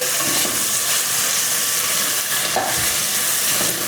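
Onions and meat fry over high heat in a pot for a bean soup, giving a loud, continuous sizzle and hiss with occasional stirring and no talking.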